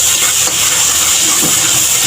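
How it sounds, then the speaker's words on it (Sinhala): Sauce for a devilled fish dish bubbles hard in a pan, a steady loud hissing roar with a bright steamy edge that runs unbroken throughout, no voices. "මේ සෝස් එකත් එක්ක හොඳට මේක උතුරනවා"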